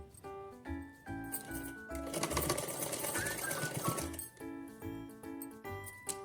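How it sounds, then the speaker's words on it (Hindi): Sewing machine stitching lace onto a small outfit for a Laddu Gopal idol, its needle running in a steady fast clatter. A rhythmic pulsing background sound plays at the start and end, with the close, busy stitching in the middle. "ऐसे पूरे पे लेस सिल लेते हैं।"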